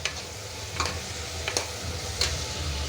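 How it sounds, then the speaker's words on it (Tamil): Onions sauté with salt in a pan, giving a close, steady sizzle with a few scraping strokes of a spoon as they are stirred. "இப்போ இது நல்லா வதக்கிடலாம் இது நல்லா வதங்கி வரணுங்க கொஞ்சம் உப்பு போட்டு வதக்குங்க"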